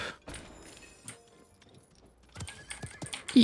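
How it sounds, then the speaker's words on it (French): A horse in the Minecraft video game makes a few scattered clip-clop hoof steps and a short whinny near the end, fairly quiet against a near-silent background. "Yeah, on a un cheval."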